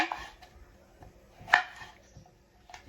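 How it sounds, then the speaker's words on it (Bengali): A knife cuts pointed gourds (potol) on a board: a few sparse, crisp cuts at a gentle pace, one sharper than the rest, with quiet gaps between them. "একে একে সব পটল এইভাবে কেটে নেব"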